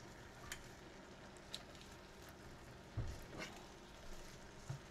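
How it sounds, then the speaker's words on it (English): Mushrooms and kale stirred in a skillet: a soft, steady sizzle with a few faint scrapes and clinks of a utensil, quiet and close. "That's why I'm stirring carefully."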